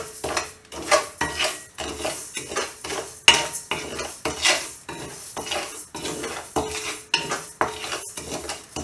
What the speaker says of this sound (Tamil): இப்போது அரிசியை வந்து நல்லா வறுத்துக்கலாம்